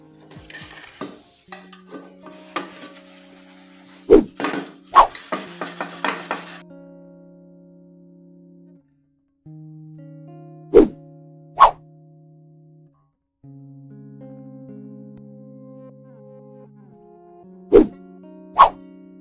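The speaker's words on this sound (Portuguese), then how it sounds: "Agora eu vou arear a parte de fora, tá?" The outside of a dull metal cooking pan is scoured with homemade polishing paste, giving close bursts of gritty rubbing and scraping mixed with clinks and ringing metal knocks, then sparse taps, with no talking.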